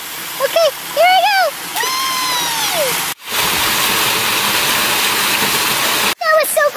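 A dive into a backyard swimming pool sends up a broad, sustained splash and wash of water lasting several seconds, with a child's high, playful voice talking before it and briefly again at the end.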